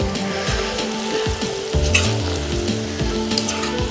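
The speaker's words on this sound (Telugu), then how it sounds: "ఇప్పుడు స్లోగా ఏగుతుంది, చూద్దామండి" Chicken popcorn frying in a pan of hot oil, a steady dense sizzle and bubbling with occasional scraping stir strokes, close and continuous with no talking.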